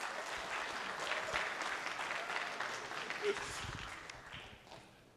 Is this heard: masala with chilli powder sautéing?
no